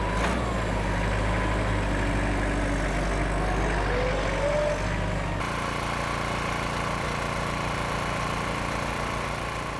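A Kubota tractor engine idles steadily on a farm beside bale-wrapping work, a constant low mechanical drone that shifts in tone partway through and keeps running at an even level.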